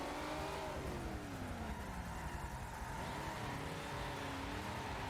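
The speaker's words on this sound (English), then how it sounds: "GTR versus old school Ford Falcon." A Nissan GTR and an old Ford Falcon race at the Nurburgring in a game, their engines droning steadily with rising and falling pitch as they accelerate side by side.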